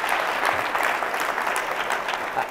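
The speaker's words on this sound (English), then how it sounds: "You can applaud now." A short burst of audience applause at a county government address, steady dense clapping from a crowd at moderate volume.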